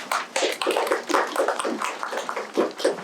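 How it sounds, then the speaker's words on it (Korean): Steady, dense applause from a seminar audience at a talk on music streaming royalty settlement, a continuous patter of many hands clapping without pause. "우리 큰 박수 부탁드리도록 하겠습니다."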